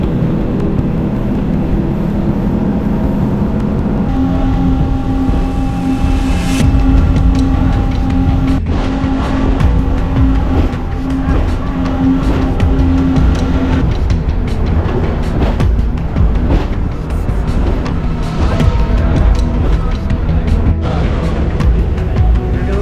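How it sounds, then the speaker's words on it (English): A speedboat racing between the Phi Phi Islands in Thailand, its engine giving a loud, continuous roar and drone with tonal whine as the hull slams through the waves, close and unbroken for over twenty seconds with no talking. "The sound and the feeling of the boat hitting the waves was both scary and impressive"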